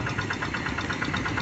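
Hand tractor engine running in a rice field, a steady pulsing, knocking chug with rapid even beats, loud and close, with no voices.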